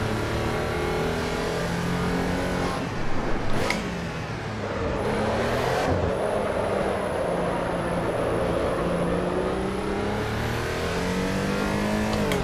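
Porsche 911 race car driven in the Assetto Corsa Evo racing game, its engine droning steadily near and loud throughout, with rising and falling harmonic sweeps as revs change and a brief louder burst partway through.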